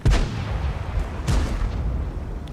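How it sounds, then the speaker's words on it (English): The American T-30 tier 9 tank destroyer fires its big gun in World of Tanks: a heavy boom at the start, a second shot about a second later, then rumbling battle noise. "he puts a very nice shot into the KV-3 worth 820 damage"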